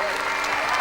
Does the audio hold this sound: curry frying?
no